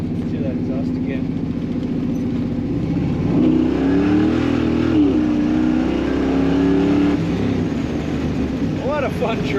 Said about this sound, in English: Let's hear that exhaust again.